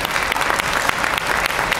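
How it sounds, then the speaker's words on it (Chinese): Steady, full applause fills a Rotary Club joint meeting hall as the audience thanks the organizing clubs, an even roar of many clapping hands with no talk over it. "请大家热烈掌声，谢谢他们。"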